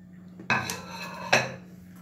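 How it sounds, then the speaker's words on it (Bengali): Ice cubes dropped into milk for a mixed fruit shake, with two sharp clinking impacts against a container about a second apart, close and clear over a quiet background. "আরও 2-4টে আইস কিউব দিয়ে দিলাম এতে।"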